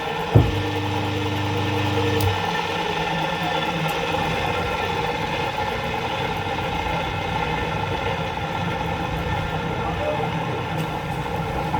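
A single-phase electric motor wired with capacitors hums steadily after a brief startup transient, a continuous low drone with a faint tonal whine, running alone at even loudness.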